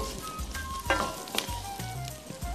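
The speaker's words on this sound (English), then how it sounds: "We are adding our tomato now" Fresh tomato hits a hot tomato sauce in a pan, setting off a loud close sizzle with stirring clatter and bubbling, and no one talking over it.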